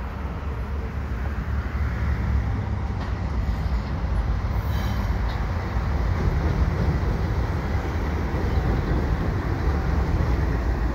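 A CN train rumbles past nearby at the St. Patrick Street Bridge with a loud, continuous roar of wheels and cars that holds steady throughout.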